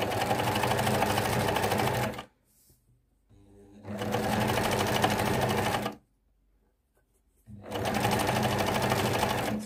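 A sewing machine runs in three steady bursts separated by short pauses, topstitching a ribbed edge line on a fabric machine cover, loud and close with no voices.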